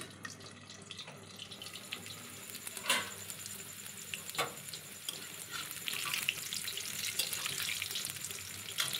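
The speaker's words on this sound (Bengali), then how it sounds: "আর এটাকে খুব নিবু আঁচে ভাজতে হবে চাপা দিয়ে দিয়ে।" Teasel gourd with shrimp fries gently on a low flame, giving a soft, steady sizzle with occasional sharper crackles and pops, close and fairly quiet, with no talking.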